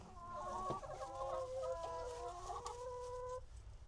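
A hen clucks and warbles in a run of drawn-out, wavering calls, close by, with no talk over it.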